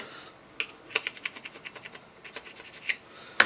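A small jeweler's file rasps at the edge of a freshly drilled hole to remove burrs, a quick series of light, close scraping strokes in a steady rhythm with short pauses.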